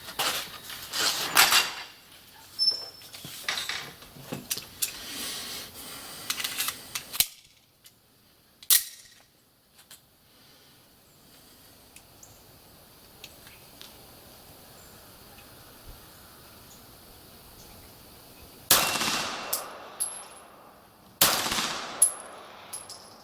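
A Beretta 92G Elite Compact pistol fires at an outdoor range: a cluster of sharp loud shots at the start, then a long quiet stretch, then a few more cracks near the end.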